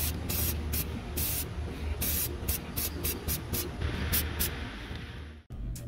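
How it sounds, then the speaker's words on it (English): Krylon Fusion spray paint hissing from an aerosol can onto a computer case, a close continuous hiss broken by short repeated bursts and brief pauses, with no talking. "After thoroughly cleaning the case down with acetone, it is now ready for some Krylon Fusion."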